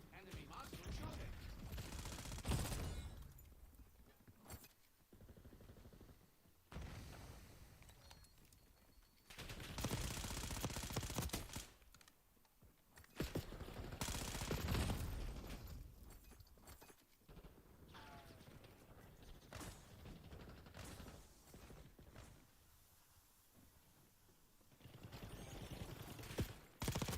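Bursts of gunfire from a Black Ops 6 match, mixing automatic fire and sharper rifle shots in several loud clusters separated by quieter gaps, with mechanical clicks of weapon handling in between.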